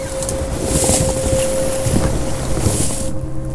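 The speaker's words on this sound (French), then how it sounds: "il y a un bon vent" Steady wind buffets a boat on open sea water during a sea-duck hunt, a loud continuous rush and microphone rumble lasting throughout with a faint engine-like hum beneath.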